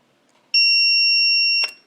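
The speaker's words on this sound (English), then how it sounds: "I do a continuity check because I like to hear the beep." A multimeter gives one steady, high continuity beep of about a second while testing a Whelen HDACF strobe power supply, sounding clear and close with a small click as the probes come off.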